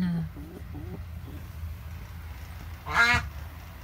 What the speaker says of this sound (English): What's with all the quacking?